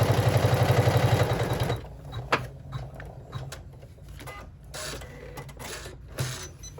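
Sewing machine stitching across the bottom of a credit card slot pocket, a fast steady mechanical chatter for under two seconds, then stopping and leaving only faint handling and rustling.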